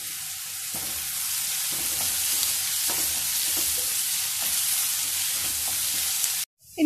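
Curry leaves fry in hot oil in a pan while being stirred, for a chicken dish. The sizzle is loud and continuous, with soft scraping strokes of the spoon, and it cuts off abruptly near the end.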